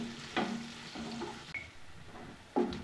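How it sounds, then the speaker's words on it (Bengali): Onions fry in a pan, a soft sizzle broken by a few scraping stirs of a spatula, close and fairly quiet with no talk. "পেঁয়াজটা ব্রাউন কালার করে ভাজা হয়ে গেছে।"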